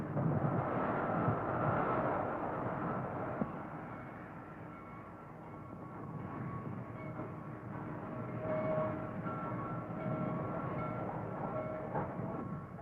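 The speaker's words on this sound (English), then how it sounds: "The speed and efficiency with which the cars for Bluefield are cut out of the train is studied for" Railroad cars bound for Bluefield being cut out of a train, heard as a steady rumbling drone of rolling stock with faint metallic squeals and clanks, moderately loud and continuous with no talking.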